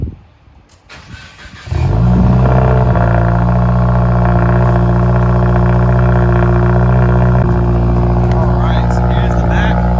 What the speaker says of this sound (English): the exhaust go crazy out here